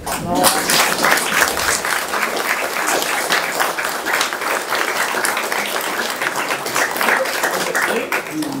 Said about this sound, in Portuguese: com o meu abraço eu quero uma salva de palmas de todos para ele